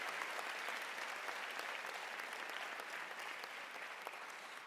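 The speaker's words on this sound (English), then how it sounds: "Graduates, please give your parents a round of applause." A graduation ceremony audience claps steadily for parents, a broad, even wash of applause heard from a distance at fairly low level, gently tapering toward the end without any speech.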